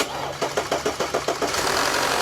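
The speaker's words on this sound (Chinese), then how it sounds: "来启动发动机。" A car engine with a fault in its fuel pressure is cranked over, giving a run of rapid, regular chugging pulses that settle into a rough, uneven idle, loud and close with no talking.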